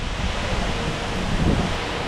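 A giant waterfall on the Kauai coast roars as a loud, constant broadband rush with no breaks, close and steady throughout, with no voices over it.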